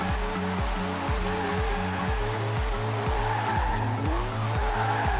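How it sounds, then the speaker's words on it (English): In Forza Horizon 4, a car revs through repeated gear shifts, its engine note climbing and dropping in a steady pattern while tires squeal and skid continuously underneath, loud and close. "I'm driving my actual own car at the moment."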